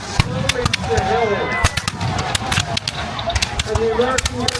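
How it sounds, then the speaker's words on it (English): Musket gunfire at a reenactment of the Battle of Bunker Hill in Gloucester, Massachusetts: sharp, loud cracks fire in irregular volleys, some close and some overlapping, while a voice narrates throughout. "And the American gunfire is intense."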